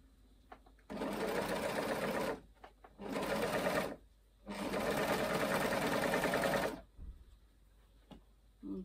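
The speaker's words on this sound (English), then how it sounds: "just overlocking the sleeve edge" An overlocker sewing machine stitches along a sleeve edge of a handmade top in three quick whirring bursts, the last one longest, separated by short pauses, close and clear with no talk.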